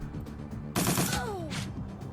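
Gunfire in Shadowrun: Dragonfall: a sudden loud burst of rapid shots erupts partway through, then fades into a brief ringing tail and quieter background.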